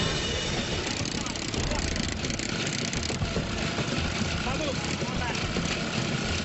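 An air compressor engine runs on a dive boat, its intake sucking exhaust, giving a constant, dense mechanical drone with a rough low rumble and broad hiss that stays steady throughout while people talk over it.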